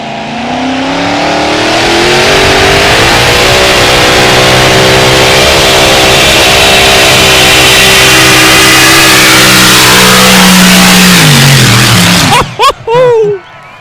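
A mini rod tractor-pulling engine at a European championship makes a very loud, sustained, rising roar through a full pull, holding high revs for about twelve seconds before cutting off abruptly, with a few sharp blips after.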